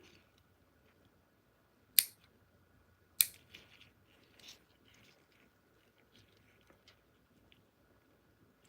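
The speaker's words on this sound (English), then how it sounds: "Oh, the clipper right in front of me and I didn't see it. So I'm gonna go ahead and trim it" A nail clipper trimming an artificial nail extension, two sharp close snaps a second apart followed by smaller faint clicks and handling sounds in a quiet room.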